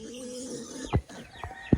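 Pet chickens cluck softly in a rainy backyard, a few short, faint clucks and thumps scattered over quiet background noise.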